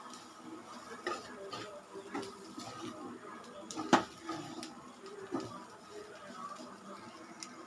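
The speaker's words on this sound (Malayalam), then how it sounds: "കക്കയിറച്ചിയും കൂടി ചേർത്ത് നന്നായിട്ട് വഴറ്റാം." Clam meat being sautéed with masala in a pan for kakka erachi thoran, a soft scraping stir with light clinks and one sharper knock near the middle, close and fairly quiet with faint room noise.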